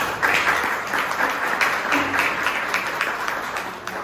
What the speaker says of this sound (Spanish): un aplauso para el director